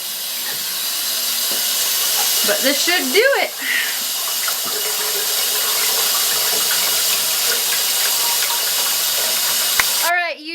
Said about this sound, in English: We're just gonna recirculate some water around the outside of the pot.